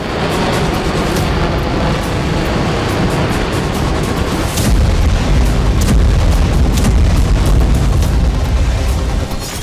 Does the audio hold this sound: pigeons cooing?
no